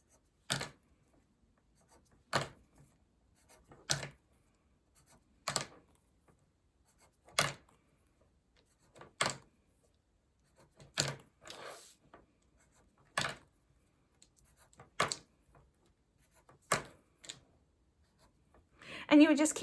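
Raindrop outlines drawn on paper, heard as a series of short, evenly spaced pen or pencil strokes. Each stroke is a quick, crisp scratch separated by quiet gaps, close and fairly faint.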